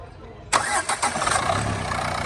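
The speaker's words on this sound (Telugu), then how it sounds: "సింగిల్ సెల్ఫ్లో బండి స్టార్ట్ అవుతుంది సార్" A 2019 Renault Duster RXS diesel automatic cranks briefly and catches on the first try, then settles into a steady, close, loud diesel idle with no voices.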